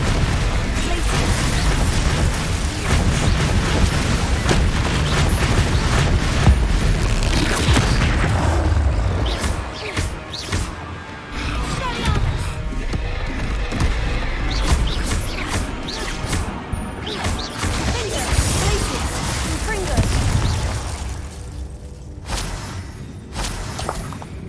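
Confringo blasting spells in a Hogwarts video game set off repeated booming explosions and crashing bursts for over twenty seconds, loud and dense at first, then thinning into scattered blasts with debris.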